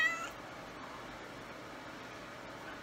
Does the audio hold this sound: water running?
no